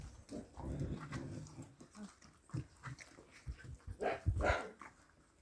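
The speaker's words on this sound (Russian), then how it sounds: "Соседская собака." A neighbour's dog moves and snuffles close by while eating porridge in a rural yard by an old house, giving irregular soft bursts and a couple of louder snorts or yelps, with no talking.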